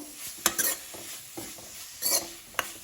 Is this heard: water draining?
no